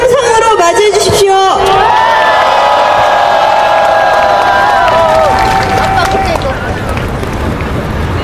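A loud rally crowd at a national general strike gathering roars and whoops in sustained cheering, with shouting voices rising over the din for several seconds before it begins to settle.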